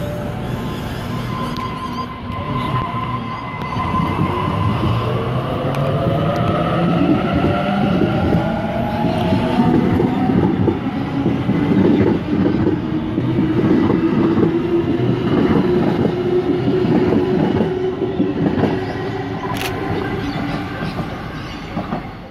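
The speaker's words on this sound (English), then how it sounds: "this train, probably bound for the city, is now departing." A Sydney V set passenger train pulls away from North Strathfield station, its motor whine rising in pitch over steady wheel clatter and rumble, loud and close.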